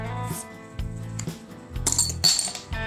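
Metallic clinks and scraping of a multi-tool wallet card against a bottle cap, ending in a couple of brighter clicks as the cap pries loose, with low hum underneath.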